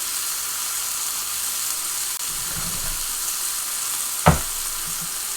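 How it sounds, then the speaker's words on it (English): Bacon sizzles on a modest-powered grill in a steady, close crackling hiss, with a soft stir or scrape midway and a single sharp knock near the end, and no talking. "Can you guys still hear me over the sound of the bacon?"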